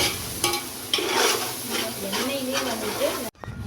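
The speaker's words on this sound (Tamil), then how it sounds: "மசாலா எல்லாமே சேர்த்து நல்லா வந்து வதக்கி விட்டுக்கோங்க" Masala spices are sautéed in hot oil, giving a steady close sizzle and hiss with stirring and scraping in the pan, ending abruptly with a brief drop to quiet.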